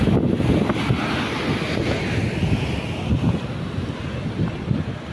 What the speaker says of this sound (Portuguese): Olha as ondas aí, gente.